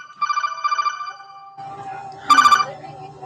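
A telephone rings in a repeated electronic trill, two bursts of the ring standing out clearly above a low background hum with some faint talk underneath.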